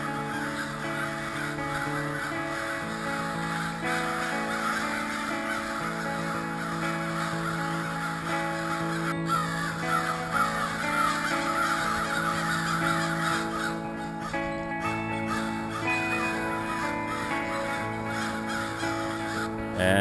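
Several crows caw repeatedly and loudly close by as they chase a great horned owl in daytime, the harsh calls overlapping in steady bursts over a constant background hum.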